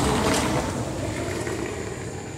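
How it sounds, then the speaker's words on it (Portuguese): A loud vehicle rumbles past nearby, a broad steady roar that slowly eases over a couple of seconds. "Passou um carro que fez muito barulho."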